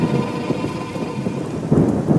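Heavy thunder rumbles low and continuous under steady rain, loud and enveloping, with a swell of deeper rolling near the end and no voices.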